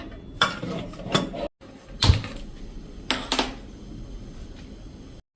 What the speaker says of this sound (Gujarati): આપણે હવે કુકરનું ઢાંકણ બંધ કરી